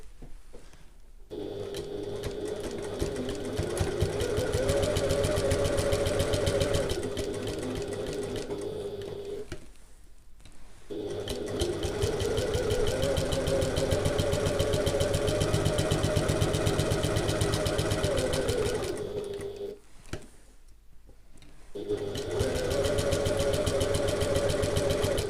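A sewing machine stitches a handbag pocket an eighth of an inch from the edge, running loud and steady in three long bursts separated by brief pauses.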